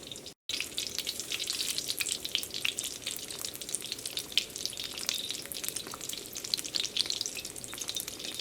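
Egg-dipped bread sandwich frying in a hot pan on a large burner, a steady close crackling sizzle with fine popping that runs without pause, apart from a brief dropout near the start.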